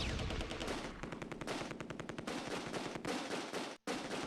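Sustained machine gun fire in the WWII strategy game Close Combat II, loud rapid bursts of automatic shots overlapping, with a brief break near the end before firing resumes.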